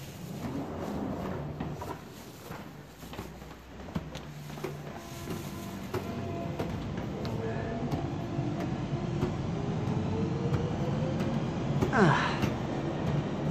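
A train rumbles at a snowy station platform, a steady low roar with rattling and faint clicks, growing slightly louder toward the end with a brief rising squeal near the close.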